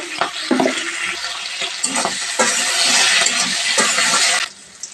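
Shrimp frying in hot oil: a loud continuous sizzle with scraping stirring and clinks, ending abruptly into quiet.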